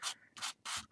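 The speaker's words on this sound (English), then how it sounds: "so I'm just going to sand one way" Sandpaper rubbed across a painted heart in three firm strokes, each a broad, raspy scrape going one way, close and fairly loud, with short quiet gaps between them.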